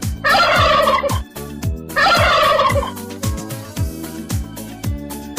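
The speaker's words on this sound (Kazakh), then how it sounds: "Күрке тауық." A turkey gobbles twice in loud, close, warbling bursts about two seconds apart, heard over a steady thumping backing rhythm.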